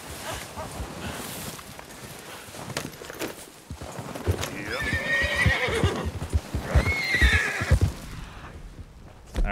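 A horse in Red Dead Redemption 2 gives two loud, clear neighs, with hoofbeats clopping underneath throughout.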